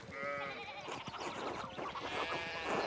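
Sheep bleating in the medieval game Pentiment, where sheep hop a fallen fence rail on a farm. Several wavering bleats overlap amid farmyard bustle, moderately loud and continuous, without speech.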